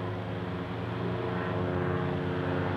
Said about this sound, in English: Why is there a plane going by?